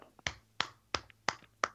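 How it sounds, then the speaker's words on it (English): Five soft, evenly spaced golf claps, sharp and close, with quiet gaps between them and no talking. "Everybody golf claps"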